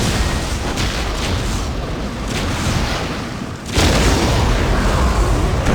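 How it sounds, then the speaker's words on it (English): Heavy artillery bombardment during a Warhammer 40,000: Dawn of War Winter Assault battle, heard as a dense, continuous roar of rumbling explosions that surges louder partway through. "the Imperials are mired before the bridge and falter under heavy bombardment"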